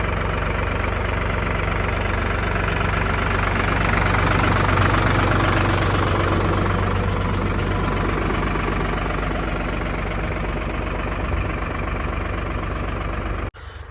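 A tractor engine runs steadily in a watermelon field, a loud, continuous low rumble with a knocking diesel idle that holds for the whole stretch before cutting off abruptly near the end.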